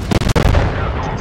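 A heavy tank cannon shot from the Grille 15 in a tank video game: a loud booming blast with a few sharp cracks up front, then a long rumbling decay.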